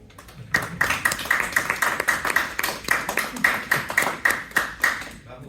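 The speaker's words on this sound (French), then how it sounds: "Je vous propose d'applaudir nos..." An audience at a panel discussion on fake news and artificial intelligence in African media applauds with steady rhythmic clapping for several seconds, fairly loud and close, fading at the end.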